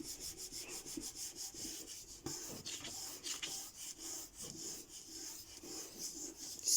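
Rubbing by hand over paper laid on a plant leaf for a printmaking transfer, a soft continuous scratchy brushing with quick repeated strokes, faint and close with no speech.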